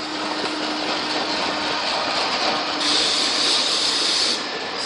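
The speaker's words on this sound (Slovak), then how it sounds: "Pre všetkých zdravotných a telesne postihnutých práve prichádza vlak na nástupišti 3" A passenger express train pulls into Bratislava main station behind electric locomotive 362.002-8, arriving from the Trnava direction; a steady loud rumble of rolling wagons, with a brighter hissing, squealing layer joining partway through.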